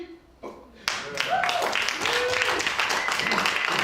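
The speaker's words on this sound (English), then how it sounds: "Thanks for your kind attention and round of applause." Audience applause after a poetry reading at a Chinatown poetry event, clapping swelling from a few hands into full steady applause, with voices mixed in.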